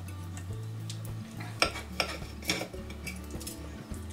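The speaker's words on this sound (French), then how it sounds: "c'est pas facile à couper tout ça" Cutlery scraping and tapping on a plate while cutting into a stuffed sweet potato with crisped flesh, a few sharp clinks and scrapes over a low hum.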